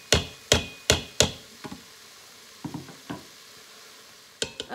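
Ground meat for chili browning in a quick cooker, marked by a run of loud, sharp metallic taps of a utensil against the pot, then scattered softer clicks and stirring over faint cooking noise.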